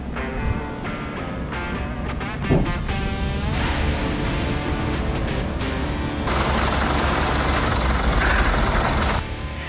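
A 1978 Leyland Atlantean double-decker bus converted to electric drive moves along with a steady broadband rumble and whine, growing denser and louder partway through.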